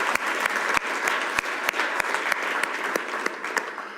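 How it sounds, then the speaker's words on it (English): A conference crowd at the closing plenary of the iHEA health economics congress in Basel gives a sustained round of applause, with dense clapping and several louder individual claps standing out near the microphone. "let's just give them a round of applause"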